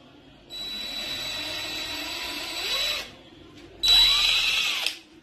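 Power screwdriver with an adapter driving a drywall screw, two close whirring bursts of about two and a half seconds and one second, each rising in pitch as the motor spins up, separated by a short pause.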